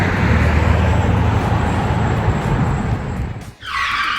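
Rush-hour traffic on North Roosevelt Boulevard in Key West at 7 a.m., with a loud, close roar of passing cars and tyre noise that dips briefly near the end before another vehicle sweeps by.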